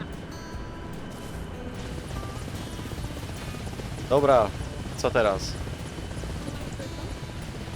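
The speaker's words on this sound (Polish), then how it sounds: "Lądujemy ruskim helikopterem na Ohio." A Russian helicopter in the ARMA Reforger video game drones steadily throughout, a constant rotor and engine roar, with brief speech from players heard over it.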